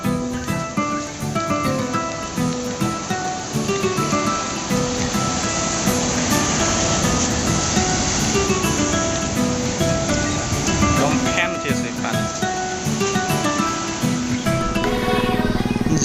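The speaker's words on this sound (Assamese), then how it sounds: "এতিয়া সাগৰৰ পাৰত আমি ঢৌ চাওঁ" Sea waves roll onto the shore at Kanyakumari in a steady, loud wash of surf that never lets up, with a faint high hiss laid over the roar.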